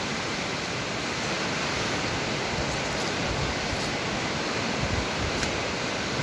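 Rushing mountain streams at Shohimardon pour as a loud, steady broadband roar with no breaks, close and unbroken throughout.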